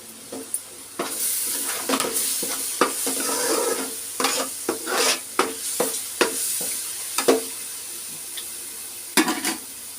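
Chili powder and spices sizzling in a hot pan for fish curry, with steady frying hiss and repeated scraping stirs of a spoon against the pan at close range.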